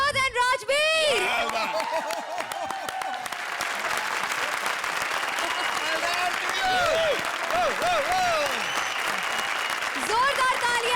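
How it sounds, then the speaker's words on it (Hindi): Loud, sustained studio audience applause and cheering on an Indian TV comedy show stage, continuous clapping with crowd chatter and laughter, while a host talks and music plays underneath. "जोरदार तालियां विनोद और राजवीर के लिए"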